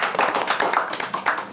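Hand clapping during a chat about mini soccer, a short run of close, uneven claps from a few people with no talk.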